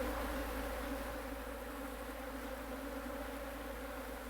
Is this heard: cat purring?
no